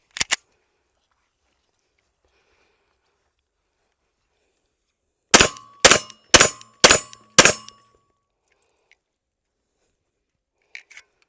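Five rapid, sharp gunshots from a Rock Island A2FS Tact 9mm pistol, evenly spaced about half a second apart, loud and close, plus a lone crack before them and faint clicks afterward.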